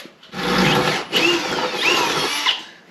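A power drill whines steadily in three long bursts while drilling holes in a Jeep WJ for rear long arms, its pitch shifting as the bit bites into metal, close and loud with no talking.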